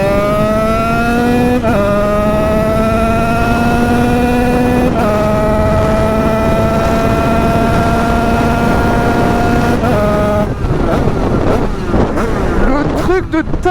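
A 100cc 2Fast scooter engine revs hard through an acceleration run, its high buzzing pitch climbing steadily and dropping briefly at each gear change, loud and close for the whole stretch.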